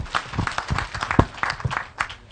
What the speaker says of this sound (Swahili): Hurũka makofi mega.